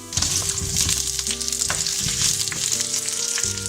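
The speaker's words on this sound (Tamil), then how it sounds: "கடலைப்பருப்பு நல்லா பொரிஞ்சுன்னு இருக்குது ஆயிலில்" Chana dal and onion frying in hot oil in a pan, a loud, steady sizzle with crackling bursts and occasional stirring scrapes, close up and with no voices.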